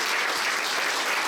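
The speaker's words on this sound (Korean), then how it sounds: "하나님께 영광의 박수를 한번 올려드리겠습니다" A church congregation at a worship service claps in dense, continuous applause, a steady wash of many hands throughout the short moment.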